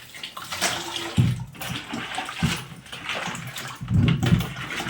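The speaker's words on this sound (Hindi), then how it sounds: "वहाँ सिंक है और डायरेक्ट ये पानी आता है" Tap water splashes and gurgles into a kitchen sink where dishes are being washed, a steady close wash with a few louder splashing bursts, and no voices.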